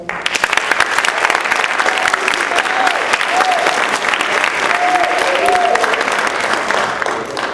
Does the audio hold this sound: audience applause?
yes